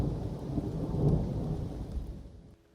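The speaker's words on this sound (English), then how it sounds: "It rained outside right into Hadrian's soul." Steady rain falls through a thunderstorm with a low rumble of thunder swelling midway, then the sound cuts off abruptly near the end.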